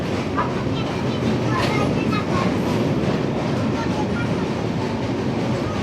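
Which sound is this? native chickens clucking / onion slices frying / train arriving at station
train arriving at station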